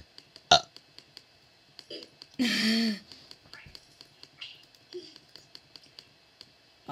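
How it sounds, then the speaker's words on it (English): A single loud, rough burp done on command stands out near the middle, with a few faint clicks and small noises scattered around it in an otherwise quiet room. "I can burp on command"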